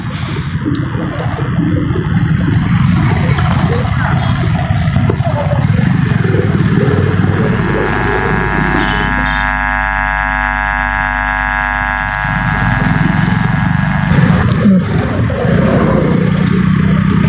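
Vehicle engine drones steadily and loudly throughout a ride, with wind and road rumble up close and a brief tonal whine partway through.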